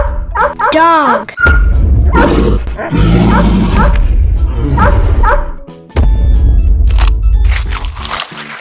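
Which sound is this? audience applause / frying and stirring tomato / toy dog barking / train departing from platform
toy dog barking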